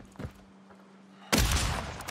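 Gunfire from an M13B rifle in the Warzone video game: a soft pop early on, then a loud, sharp blast that rings out and sustains to the end.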